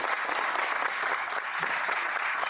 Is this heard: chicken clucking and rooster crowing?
no